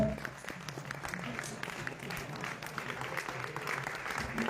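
Audience clapping at a Nepal cinema event, a moderate, steady patter of applause from a crowd, fairly close and continuous through the few seconds.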